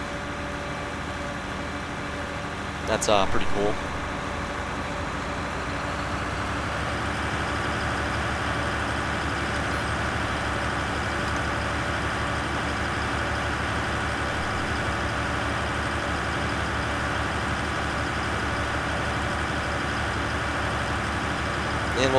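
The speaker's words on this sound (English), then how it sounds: "you turn it on and it actually revs up the tractor" A tractor engine in Farming Simulator 2013 revs up from a low idle into a steady, sustained drone, preceded by a brief louder burst, with a short spoken comment early on.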